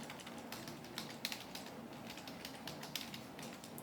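Typing on a computer keyboard at a desktop, a steady stream of light, quick key clicks with a few sharper taps, fairly close, no talking.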